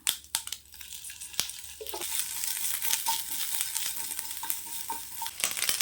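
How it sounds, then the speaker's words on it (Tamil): Grated coconut roasts in a little oil in a pan, heard as a crackling sizzle with scraping stir strokes and a few sharp knocks, close and fairly quiet, with no talking. "இதை நம்ம இப்போ வறுத்துக்கலாம் கொஞ்சமாக எண்ணெய் சேர்த்துக்கலாம்"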